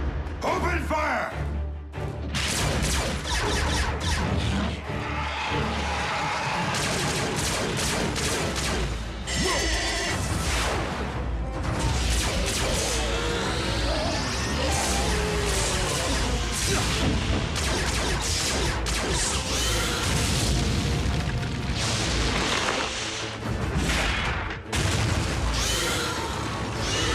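Dense, continuous barrage of gunfire, blasts and crashing impacts from a Transformers Prime cartoon battle, loud and close throughout, with shouted voices and music mixed in under the chaos.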